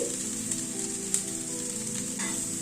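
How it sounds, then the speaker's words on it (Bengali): Okra (bhindi) sizzles over a low gas flame as it is sautéed with spices in a pan, a soft, even hiss with a few faint clicks of stirring, close and continuous without speech. "ভেন্ডিটা অ্যাড করে দিয়ে একটু মশলার সাথে ভেন্ডিটাকে একটুখানি কষিয়ে নেব"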